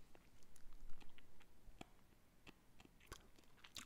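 Dry, crisp crunching bites of dry Japanese sencha green tea leaves in an irregular rhythm, close to the microphone, with small crackles between them and no talking.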